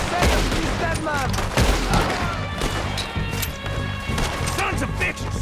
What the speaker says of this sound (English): Dang, I shot the tree instead.